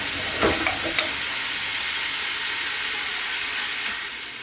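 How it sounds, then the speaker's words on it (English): Hamburger meat browning in a pan for American-style goulash, a loud continuous hiss and sizzle up close, with a couple of scraping stirs near the start and no talking. "Okay, so we're about halfway through the browning process with the hamburger."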